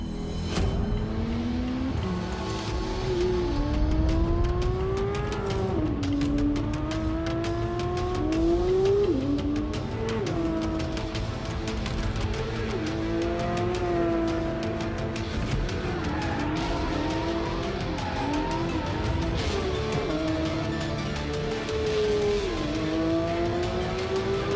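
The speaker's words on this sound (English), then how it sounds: "let's have a look at the new Porsche 911 GT3 in action" A Porsche 911 GT3 driven hard on a winding road and racetrack, its engine rising and falling steadily through gears with repeated upshifts and revving, loud and continuous throughout with no voices.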